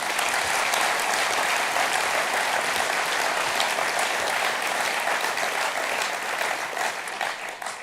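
Sustained applause from a large audience at an SNP party conference session, steady and loud throughout before tapering slightly at the end, with no speech over it.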